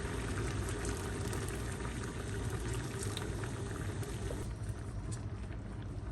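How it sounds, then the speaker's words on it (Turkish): Boiled water being poured into a cooking pot, heard as a dense continuous bubbling, sloshing rush that stays close and steady throughout. "Biraz kaynamış su ilave ediyorum."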